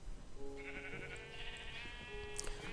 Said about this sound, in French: toujours l'usine à moutons qui est ici